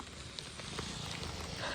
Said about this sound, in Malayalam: മാത്രമല്ല മഴയുണ്ട്.